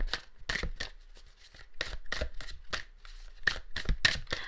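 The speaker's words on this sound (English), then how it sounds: "I'm trying to shuffle more on camera lately because it's something that I don't like to do" Tarot cards being shuffled by hand nearby, a steady run of crisp riffling bursts and soft slaps repeating about every half second, with no voices.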